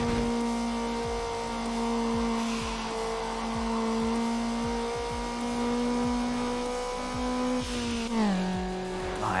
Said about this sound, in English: I love the sound of the cars when you upgrade them as well.